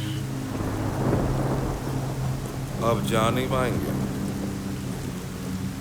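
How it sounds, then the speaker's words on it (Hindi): Heavy rain pours continuously while low thunder rumbles beneath it, and a voice speaks briefly over the storm midway. "बहुत भारी बारिश हो रही है।"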